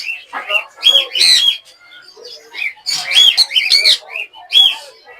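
Conure parrots, a blue cinnamon and an American dilute pair, chirp at an Islamabad bird market, with bright, harsh calls repeating in quick bursts close by, several birds overlapping, with brief pauses between flurries.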